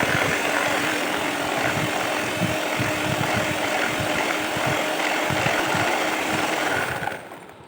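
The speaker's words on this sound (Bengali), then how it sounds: "আবার 1 মিনিট মতো ব্লেন্ড করে নিচ্ছি" An electric blender runs steadily while blending taal (toddy palm) cake batter with rice flour, a continuous close whirring motor drone that holds for several seconds and then cuts off near the end.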